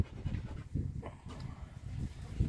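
A Russo-European Laika dog pants quietly up close in quick, soft rhythmic breaths, with a few slightly stronger puffs and no voices present.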